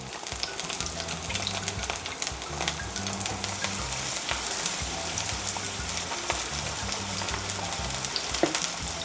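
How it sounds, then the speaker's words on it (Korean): Kimchi pancake frying in a generous layer of oil gives a steady, close crackling sizzle with dense popping throughout, plus a few brief scraping or clatter sounds. "이렇게 노릇노릇 이제 지져주시면 돼요"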